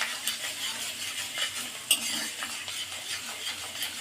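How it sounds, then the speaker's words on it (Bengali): Chopped ginger and garlic stirred in a hot pan: a quiet background sizzle with irregular scraping strokes and a few sharp metallic clinks of a utensil against the pan, no talking. "জিঞ্জার গার্লিকটাকে একটুখানি জাস্ট হালকা স্লাইড নেড়ে নেবো।"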